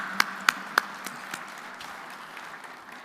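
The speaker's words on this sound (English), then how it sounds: "Another round of applause for Principal Deputy Assistant Secretary Mic" A conference audience applauds in a large hall: a few sharp, distinct claps open it, then scattered lighter clapping trails away and fades to quiet room tone.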